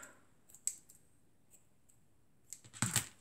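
Scissors snip crochet yarn close by, with a few light clicks followed by a brief, louder cut near the end, otherwise quiet.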